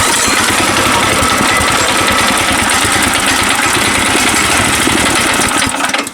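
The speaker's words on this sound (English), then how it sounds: "So it has the Predator 212 on it, and it runs great, and it gets up and goes." Predator 212 engine swapped into a 1981 Yamaha XT250 motorcycle, a close, loud, steady chugging idle with rapid knocking pulses that cuts out at the end.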